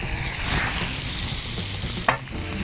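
Steady, dense sizzling of food frying in a cast iron pan over an outdoor fire, a continuous hiss with a brief scrape or stir near the end and no talking.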